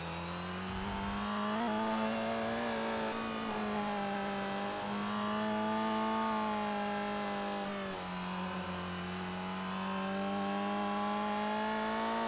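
Go-kart engine in ToCA Race Driver 3, a buzzy high-pitched two-stroke drone held near full throttle, rising and dipping slightly as the kart races, loud and continuous with one brief drop in revs.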